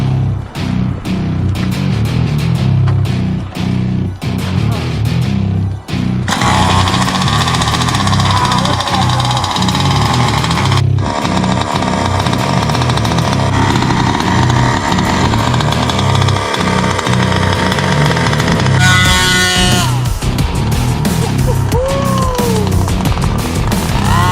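A Rovan Max 45cc gas engine runs through its break-in outdoors in cold, windy weather, a loud, steady buzzing drone that rises and falls in pitch as it revs, with voices now and then over it.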